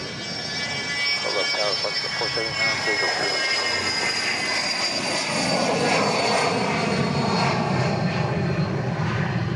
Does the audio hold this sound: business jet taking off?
yes